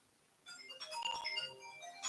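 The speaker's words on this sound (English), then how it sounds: "Hang on, there's someone trying to ring." A phone ringtone sounds indoors, a melodic electronic ring that starts about half a second in and continues steadily to the end, fairly close and clear.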